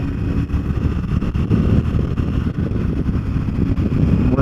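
A 2020 Harley-Davidson Street 750 motorcycle cruising in fourth gear on a highway, its engine a steady low rumble mixed with buffeting wind noise, loud and continuous throughout.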